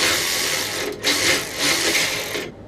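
Socket wrench turning exhaust clamp bolts on a VW Super Beetle, a close rapid buzzing ratchet run that briefly pauses, resumes, then cuts off.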